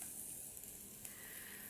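Meat and onion fry in a pot over a fire, giving a steady, soft broadband sizzle and hiss that runs unbroken and low in level, with no voices over it.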